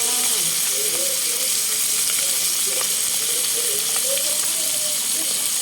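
Mackerel fries in fish sauce in a pan with a steady, close sizzle and hiss that stays even throughout, with occasional small pops and crackles.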